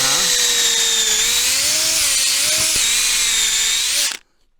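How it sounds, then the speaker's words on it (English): Drill boring into maple tree sapwood for sap tapping, a loud steady whine close by with a brief dip in pitch, running about four seconds before stopping abruptly. "So you start by drilling into the sapwood."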